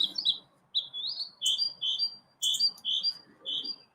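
A pet bird chirps and squawks nearby in a quiet room, giving bursts of shrill tweets in an irregular series across several seconds.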